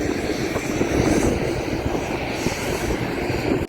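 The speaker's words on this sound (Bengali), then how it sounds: "অনেক হেলিকপ্টারও যাচ্ছে।" Helicopters flying near the Baltal Amarnath camp site in Kashmir, a continuous droning engine and rotor noise at moderate distance, steady throughout with no voices.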